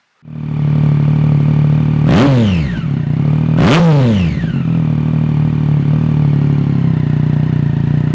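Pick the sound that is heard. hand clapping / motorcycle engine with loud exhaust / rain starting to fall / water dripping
motorcycle engine with loud exhaust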